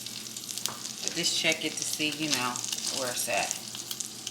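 Thick stuffed French toast sizzles and crackles steadily as it browns on all sides in a hot pan, with a person talking over the frying throughout.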